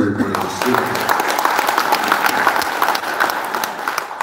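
An audience at an inauguration ceremony applauds in a dense, steady burst of clapping that fills the room, with a voice briefly heard at the start.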